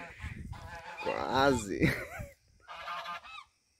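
Geese honking loudly and harshly in repeated bursts while chasing someone, with a person's brief exclamations among the calls.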